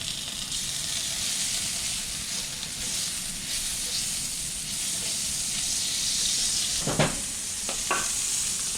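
Plenty of butter sizzling in a cast iron pan for quesadillas, a loud, constant crackling hiss close up, broken near the end by a couple of short knocks or scrapes from a utensil.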